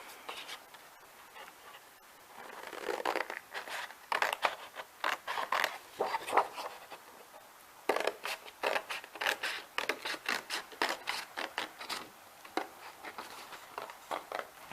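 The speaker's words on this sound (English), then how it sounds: "It's a little hard to cut the rounded edges, so if you need to just cut it out the best you can first" Scissors cutting out a paper bookmark with rounded edges: repeated crisp snips and crunchy paper rasps in uneven bursts, close and moderately loud, with short pauses between runs of cuts.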